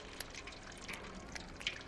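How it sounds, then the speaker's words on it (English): A kitten laps water in a quick, soft run of wet, irregular licks, heard up close and fairly faint against a quiet room. "the kitty's drinking water"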